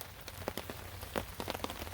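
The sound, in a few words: rain falling at night by a river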